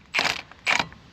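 Two short metallic ratcheting bursts from a wrench loosening an axle nut on a wheel hub with a bad, heat-warped bearing, close and distinct with a brief pause between them.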